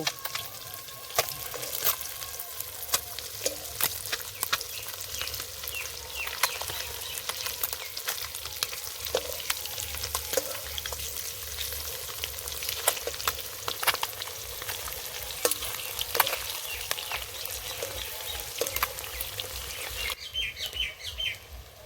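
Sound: frying eggs in a wok

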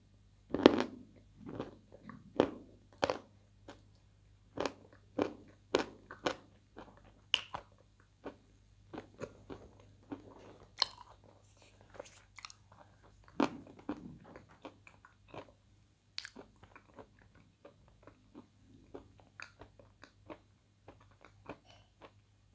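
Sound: biting and chewing hard karachan

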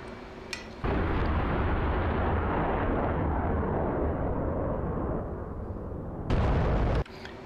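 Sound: bomb explosion from F/A-18C in DCS video game

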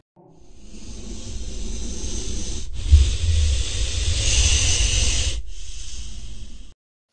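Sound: snake hissing

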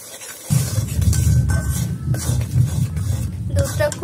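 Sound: stirring powdered milk into semolina laddu mixture

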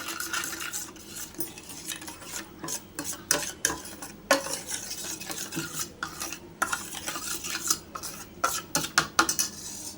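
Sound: stirring spice paste into oil in a pan

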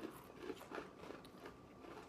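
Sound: crunching sweet and salty caramel Bugles snack

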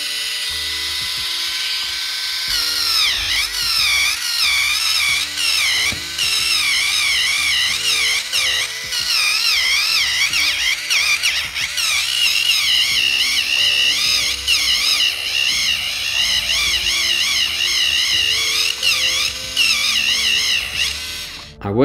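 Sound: electric foot file grinding a dry heel at speed 1

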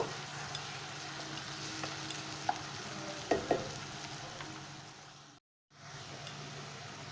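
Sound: green chili paste being fried in oil

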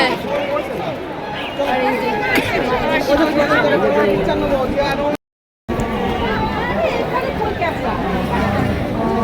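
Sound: crowd chatter in front of a temple

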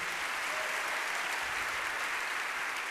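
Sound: church congregation applause

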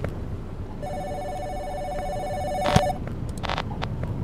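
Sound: telephone ringing in the horror video game Giraffe Town

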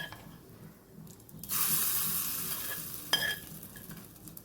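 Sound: hot ghee tempering poured over chutneys, sizzling

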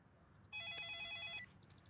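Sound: mobile phone ringing with incoming call

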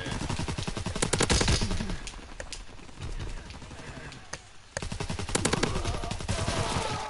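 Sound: shotgun gunfire in a WWII video game

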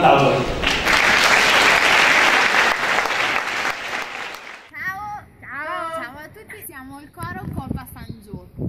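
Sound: audience applause at a chorus contest

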